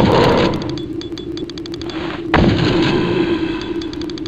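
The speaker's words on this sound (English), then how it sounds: "Takes 4 mega shotgun blast." Heavy shotgun blasts in the video game Deep Fear, two loud booming shots about two seconds apart, each followed by a rumbling tail, with a regular clicking tick running underneath throughout.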